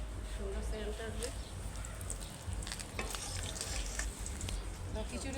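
Whole spices being tempered in hot oil and added to a pot of khichuri give a steady, close sizzle and frying hiss that runs throughout, with stirring noises and people talking over it.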